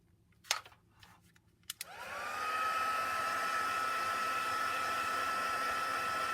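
A hair dryer switches on after a few faint clicks and handling sounds and then blows steadily at close range to dry a handmade winter lodge card, a loud continuous whooshing whir.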